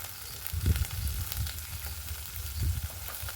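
Freshwater snails fry in a pan for a gourd-leaf snail curry, giving a soft steady sizzle with a few low thumps of stirring or movement, close and fairly quiet with no talk.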